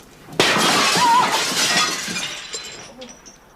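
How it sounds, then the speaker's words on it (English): A window pane smashes as a thrown brick hits it, a sudden loud crash with glass fragments tinkling and scattering before fading, and a brief voice afterward. "Surely people don't really throw bricks through windows?"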